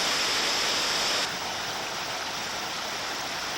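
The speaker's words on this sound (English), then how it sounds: "The roar of the river made communications very difficult." An underground river roars through a cave as a loud, constant rushing wash of water that drops slightly in level partway through.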